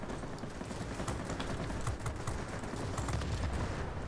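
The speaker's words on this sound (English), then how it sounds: "use a 45mm cannon on them that's normally used on a tank." A Yak-9 fighter fires its 45mm cannon in the World of Warplanes game, a dense, loud barrage of rapid overlapping blasts over a constant roar that runs without a break.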